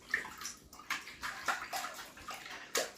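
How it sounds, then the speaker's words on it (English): A dog scoops water out of a filled bowl or tub with its paw, giving repeated quick splashes and sloshes in an uneven rhythm, close and fairly quiet. "he's just put his paw in it and he's been scooping out all the water with his paw"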